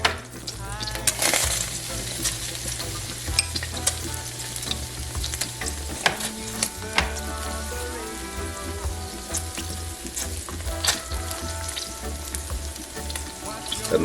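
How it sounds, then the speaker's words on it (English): Garlic sizzling in hot oil in a pan at the start of chicken adobo, a loud continuous crackle with sputtering pops and occasional utensil clinks, close up, while tonal background music plays. "The first thing I'm going to do is add my garlic."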